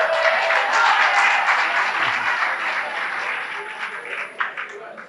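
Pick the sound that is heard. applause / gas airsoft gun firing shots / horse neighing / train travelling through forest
applause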